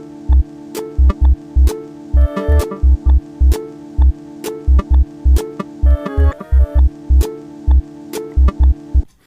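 Layered electronic synth track: a bass line with broken chords from an Operator synth and a Drift synthesizer, pitch-shifted up and down a semitone. It plays as a steady pulsing beat of punchy low thumps under bright sustained chordal tones, loud and close.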